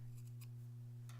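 Scissors make a few quiet, quick snips through fabric while trimming an embroidered tree topper. The cuts come as separate clips over a steady low hum.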